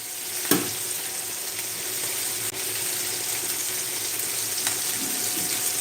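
Liver frying in a hot pan gives a steady, close, full sizzle with no pauses, broken by a sharp tap just after the start.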